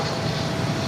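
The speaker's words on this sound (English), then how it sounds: "This is Contour Aviation 3385 coming in from Sholo on the E135." An Embraer E135 regional jet taxiing at Phoenix Sky Harbor airport, a steady, broad engine roar with a low rumble underneath, continuous and fairly loud for a moment.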